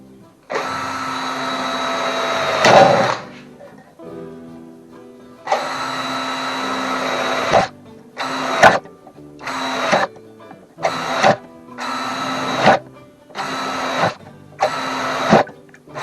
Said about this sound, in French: Nous allons percer la boîte numéro 1 sur le pourtour du col supérieur